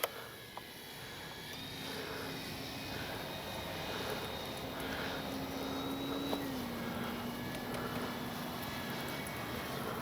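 Radio-controlled F4U Corsair warbird model airplane taking off at a flying field, a steady engine drone with a droning tone that shifts pitch midway, continuous and moderately distant over outdoor background noise.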